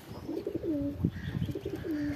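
Pigeons coo close by, soft repeated throaty rolling calls in a short series, with faint chirps in the background.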